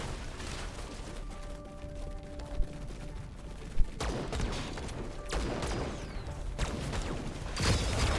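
Sniper fire in the real-time strategy game Battle Aces rings out as a few sharp cracks amid a dense, busy battle din of explosions and mechanical clatter, moderately loud throughout.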